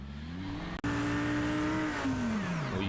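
A sim race car at Watkins Glen runs wide onto the grass and loses control in a racing game, engine droning steadily, cutting out for an instant, then surging and falling in pitch as the car slides away.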